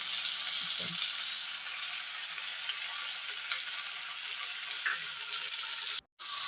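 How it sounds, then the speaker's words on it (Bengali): Pointed gourd fries in a pan with tomato, cumin, ginger, chilli, salt and turmeric, giving a steady bright sizzle throughout with a brief stir-like clatter early on and a short break near the end. "তো এখানে মা সমস্ত মশলা দিয়ে নুন হলুদ দিয়ে কষতে দিয়ে দিয়েছেন"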